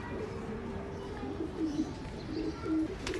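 A Salara Teddy pigeon coos close by in a few soft, low rolling calls over a steady background hum.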